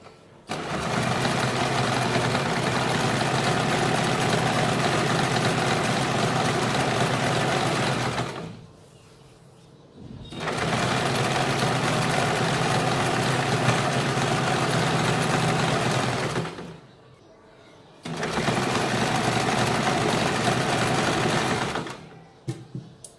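A sewing machine stitches a double seam on a kurti in three long steady runs of loud continuous whirring, each several seconds long, separated by short pauses.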